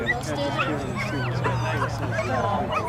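At a high school boys' varsity soccer match, a dog yips and whimpers continuously close by, mixed with crowd babble and voices talking throughout.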